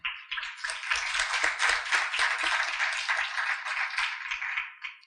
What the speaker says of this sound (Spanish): Les pido un aplauso para ella, por favor.